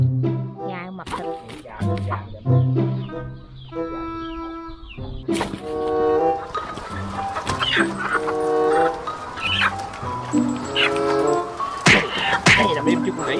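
Farm chickens clucking and squawking while being caught, loud agitated bursts close by, mixed with people talking and a dog barking.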